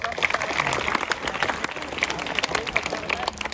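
Schoolchildren in a classroom at an intermediate college clap together in a brisk, scattered burst, many hands close by, with some voices mixed in.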